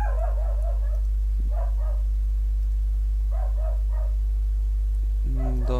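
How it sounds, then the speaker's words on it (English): Dog barking in several short bursts, spaced apart and moderately distant, over a constant low electrical hum. "Dog is barking, but we will not care."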